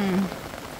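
Steady rain patters on trees and plants in a garden nursery on a summer day, a dense, even hiss close by with no voices.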